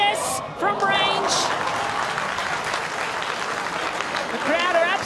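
A football crowd at Maitland roars after a goal in the 2024-25 A-League match between Newcastle Jets and Wellington Phoenix, loud sustained cheering and applause filling the stadium while a commentator speaks over it.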